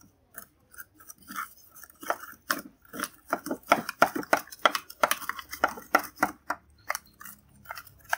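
A spoon stirs milk and red dragon fruit together into a vegetarian drink, making rapid, irregular clicks and scrapes against the container that stay close and moderately loud.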